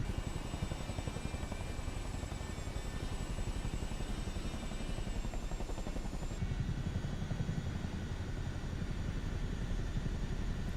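A helicopter in Microsoft Flight Simulator 2024 drones on steadily, its rotor and engine noise loud and constant throughout, with a thin high whine above it that drops away partway through.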